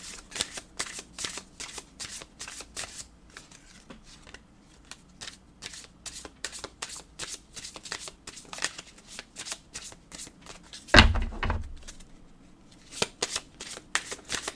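Oracle card decks are shuffled close by in repeated quick riffling bursts with short pauses, plus a louder thump partway through, with no voices.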